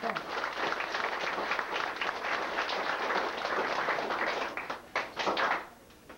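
Sustained applause for trombonists at a family descendants' gathering: steady crowd clapping fills the room, then thins into a few scattered claps and fades near the end.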